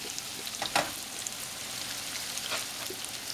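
Meat browns in a frying pan for a stuffed cabbage dish, with garlic and onion, crackling and sizzling steadily up close. A few sharp utensil clinks and stirring scrapes break through the hiss.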